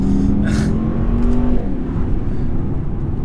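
A 2019 Mercedes E63S accelerates hard on a B road, its engine note climbing steadily then dropping sharply at a gearshift, loud and close from inside the cabin over constant road rumble.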